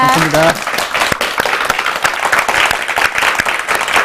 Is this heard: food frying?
no